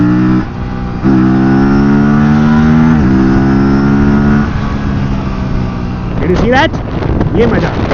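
An Aprilia RS 457 sport motorcycle accelerates hard up close, its engine note climbing through several gear changes in a loud, rising whine before easing off near the end.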